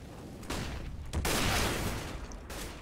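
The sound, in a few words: gunfire in the video game Counter-Strike, map Inferno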